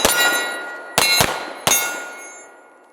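Bullets strike a KRATE portable steel target at a shooting range, three sharp metallic clangs that each ring on and fade away.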